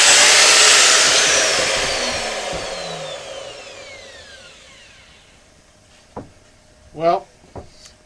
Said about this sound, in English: now I got my router set up to do the round over